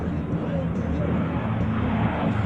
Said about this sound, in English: Major Bergen displaying the A-10's rolling maneuverability